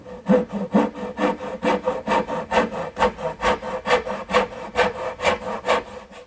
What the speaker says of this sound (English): making the angled cuts with my little dovetailing saw